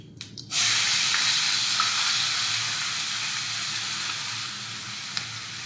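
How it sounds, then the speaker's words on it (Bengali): Chopped onion drops into hot oil already crackling with whole cumin seeds, bursting into a loud, steady close sizzle that holds for several seconds without anyone talking. "চপ করে রাখা পেঁয়াজটা দিয়ে দেব।"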